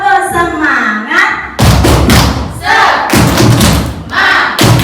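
An Indonesian group of women does a rhythmic spirit clap, loud thumping bursts of claps in a patterned beat, with voices chanting and calling between the claps.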